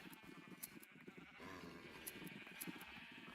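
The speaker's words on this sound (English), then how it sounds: "the sheep are just filling my ears up." Sheep in the Minecraft video game bleat in a faint, overlapping chorus of wavering calls that runs throughout, with soft clicks mixed in.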